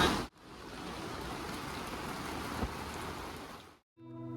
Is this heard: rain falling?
yes